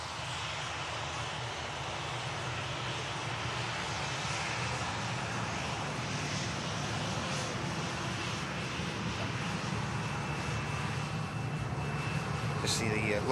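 A 24-year-old Atlas Air Boeing 747-400 departs, its broad, steady jet roar rising slightly toward the end under light background noise, with faint talk in the distance.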